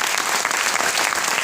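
A room of company members applauds a business milestone celebration, thick continuous clapping that holds at an even, fairly loud level from start to finish with no voices rising above it.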